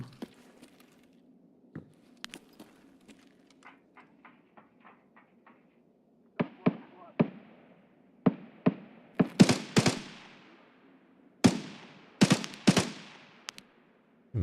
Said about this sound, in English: Were they shooting at me or are they shooting at the scav?